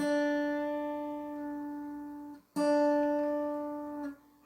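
Two sustained guitar notes played one after another, the second slightly bent out of pitch as it rings because the string is pressed down too hard, clear and close with no talking.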